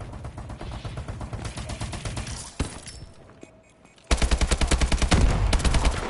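Rapid automatic gunfire from Call of Duty: Advanced Warfare crackles in dense bursts, pauses briefly with a sharp single report, then resumes louder and closer in steady rhythmic volleys.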